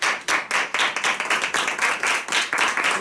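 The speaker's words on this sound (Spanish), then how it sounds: "un aplauso" Close, rhythmic clapping at a book-signing tribute in a Seville athenaeum, a few nearby hands beating out loud, distinct claps in a quick, fairly regular pulse.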